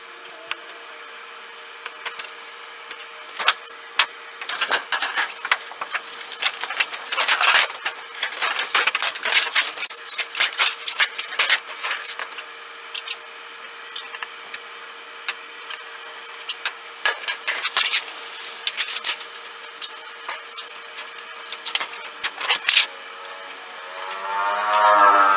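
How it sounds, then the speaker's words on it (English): A knife scores material along a wooden yardstick straight edge, giving bursts of scratchy rasping strokes interspersed with quieter pauses, close up and with no talking. "I'm going to use it as my straight edge to do the scoring on this."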